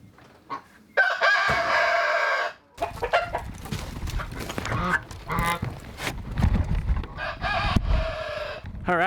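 Homestead chickens crow and cluck nearby, a loud rooster crow standing out early, then scattered clucks and squawks over a busy farmyard background, with no talk.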